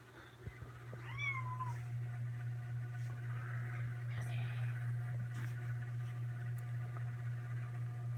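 A kitten in a home gives one short rising meow near the start, followed by a steady low electrical hum and faint room sounds, with no talking.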